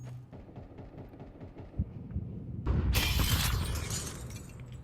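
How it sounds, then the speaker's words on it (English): Glass shattering in Counter-Strike on the top site of a map: a loud, bright burst of breaking glass partway through, cutting over quieter in-game footsteps and gunfire that continue beneath. "Sound like they were trying to break the glass on the top site."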